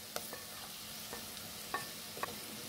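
Shredded cabbage, tomato and green chilies sizzle together in a pan for vegetable egg noodles, a faint, steady frying hiss broken by a few sharp spatula scrapes and clicks as it is stirred.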